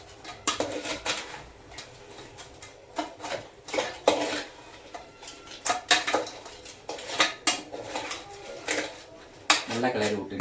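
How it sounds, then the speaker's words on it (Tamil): Crab gravy being stirred in a pot, with repeated metallic scrapes and clinks of a spoon against the vessel in irregular bursts, close and fairly loud, under faint background sounds. "போட்டுட்டு ஒரு கிளறி கொடுக்கணும்."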